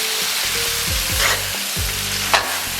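Beef sizzling and stir-frying in a wok with bean paste and chili sauce, loud and close, with steady frying hiss and repeated scraping strokes of a spatula, no talk.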